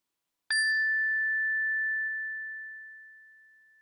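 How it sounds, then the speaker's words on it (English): A single bright chime, struck once, rings as a clear sustained tone in a quiet room, then slowly fades away over several seconds, with no voices. "listen to the sound of the chime for as long as you can"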